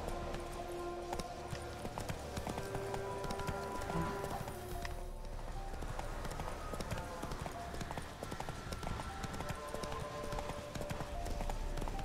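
The horse Roach trots across ground in a video game, its hoofbeats a steady, close clip-clop over a continuous background bed, with a brief whinny-like tone partway through.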